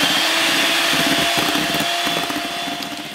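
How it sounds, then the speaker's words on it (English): Electric blender whirring loudly and continuously as it mixes hot water into a chocolate sponge batter for a jelly roll, a steady motor hum with slight fluctuations. "Now that's all we need to use our blender for."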